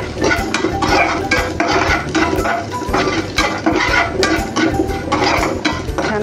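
Lentils, coriander seeds and chilies are dry-roasted in a pan, stirred briskly with rhythmic metal scraping and rattling of the seeds against the pan, loud and close without any voices.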